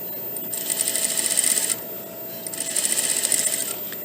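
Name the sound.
sewing machine stitching a collar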